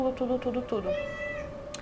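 A female cat meows close by in a few short, choppy calls that run into one longer, drawn-out meow.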